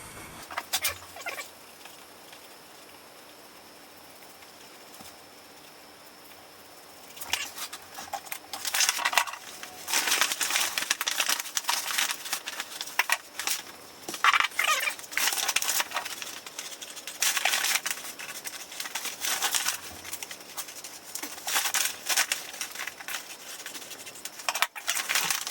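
Waterproof shower board, a Hydro Ban board, being cut to shape, heard as a long run of repeated scraping and crunching cutting strokes after a quiet stretch, fairly close and steady with no talk.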